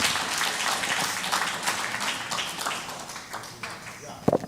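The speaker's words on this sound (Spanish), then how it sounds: "Un aplauso para Shazan" Applause for a person named Shazan at a Spanish-language gathering, a crowd clapping steadily and fading toward the end, with voices and background chatter mixed in and a sharp knock near the close.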